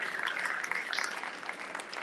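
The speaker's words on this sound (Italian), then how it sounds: "stavolta un applauso particolare lo facciamo" Audience applause at a Giro d'Italia presentation event, a steady crackle of many hands clapping together, moderately loud and sustained, with no speech over it.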